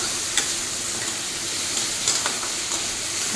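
A pan of ridge gourd and fish head curry sizzles and steams as it is stirred, giving a loud, continuous frying hiss with a few light scrapes and clicks.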